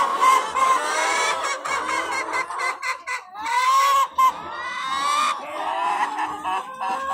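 Free-range laying hens gathered together cluck and squawk continuously at close range, a busy overlapping chorus of clucks with occasional drawn-out calls.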